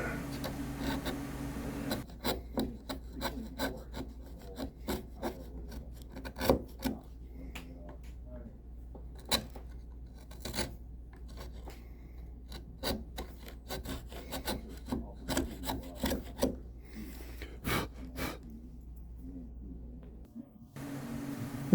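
Sandpaper rubbing against the wooden neck joint of a 1954 Martin guitar during restoration, a close, steady rasping with quick repeated strokes and sharp scratchy bursts throughout, ending abruptly.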